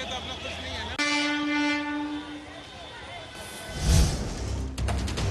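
A train passes on a rail track close to a crowded neighbourhood where a fire broke out, with a sustained horn blast, rumbling wagons and a rising rush of noise near the end.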